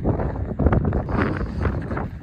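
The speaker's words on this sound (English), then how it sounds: "as soon as we come out here, it becomes super windy" Strong wind buffets the microphone outdoors in the yard of Skanelaholm Castle beside its graveyard, a continuous low rumbling gusty roar with no voices.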